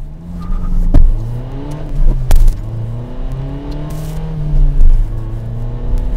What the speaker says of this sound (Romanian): Vreau să pleci tare de pe loc, să vedem dacă simți cum